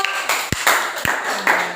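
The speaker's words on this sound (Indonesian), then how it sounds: "Tepuk tangan untuk kelompok." Students in a classroom clap for a group, a short burst of several uneven claps with a few sharp, close hand strikes standing out.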